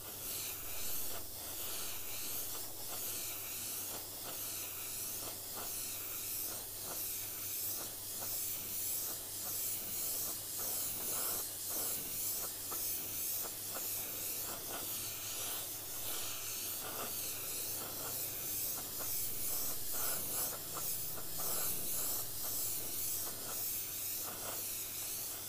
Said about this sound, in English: So if I were to spray this like this, you wouldn't even see anything happening.